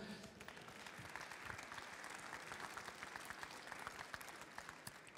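Faint, continuous applause from an audience at a cooking contest tasting, an even wash of many clapping hands heard from a distance without any voices.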